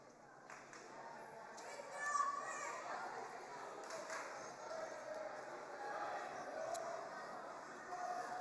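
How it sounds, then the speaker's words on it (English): Crowd at a high school girls' volleyball game, Grove City Eagles vs Titusville Rockets: a distant, busy murmur of voices with scattered shouts and cheers, fairly faint and continuous throughout. "Good crowd here tonight."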